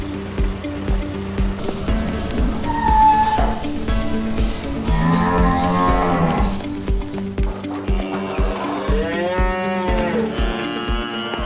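Several stressed cattle moo loudly and repeatedly during transport, long drawn-out calls overlapping above a steady rhythmic thumping and rumbling background.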